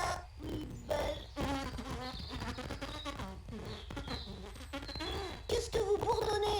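Cartoon bees buzzing in the video game Adibou DS, a wavering, bleating buzz of several voices overlapping, close and continuous over a light musical background.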